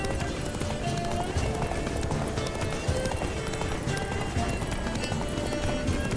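Roach, Geralt's horse in The Witcher 3: Blood and Wine, gallops in a steady, rapid clip-clop of hooves that stays loud and continuous throughout, with game ambience behind it.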